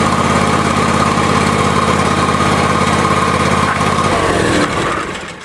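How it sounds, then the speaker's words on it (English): A John Deere lawn tractor engine runs steadily at a warm-up idle, a loud continuous near drone with a constant buzzing hum that drops away and fades at the end. "To start off, we're going to start our engine. We're going to let it run for 5 minutes."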